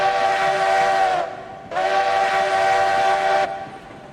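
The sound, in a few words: steam locomotive whistle in the video game RailRoads Online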